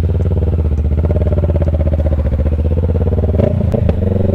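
A motorcycle engine runs loud and close with a steady throbbing rumble, then a brief clatter and revving change near the end, near the windmills of Pililla, Rizal.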